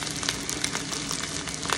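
Garlic fried rice (sinangag) frying in a pan with garlic powder, a close, steady crackling sizzle with small irregular pops running throughout.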